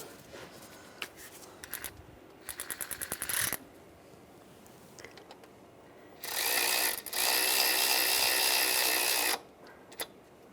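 Ratchet wrench clicking while tightening bolts on the accessory drive belt tensioner of a 2006–2009 Mercedes E350: short rapid click bursts, then a longer loud whirring run of a power ratchet, up close in a quiet garage.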